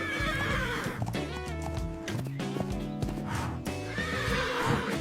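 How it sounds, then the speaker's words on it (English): A horse on a farm neighs loudly and repeatedly while hooves clip-clop in a steady rhythm, close and continuous throughout with no talk. "Kids, these are horses. They help us with farm work and love to run."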